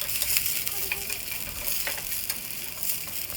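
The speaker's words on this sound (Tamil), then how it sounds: "அந்த பச்சை மிளகாயையும் இப்போ போட்டு வறுத்துக்கலாம்" Garlic and green chillies fry in a pan for a beetroot salad, a constant bright sizzle with light crackles and a few stirring taps, heard up close without talk.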